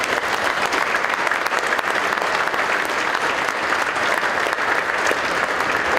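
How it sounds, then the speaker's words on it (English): Crowd applause fills an ice hockey stadium after a gold medal junior league game, a continuous, loud, even roar of clapping for about six seconds with no talking. "So big round of applause to Hunter Ice Skating Stadium."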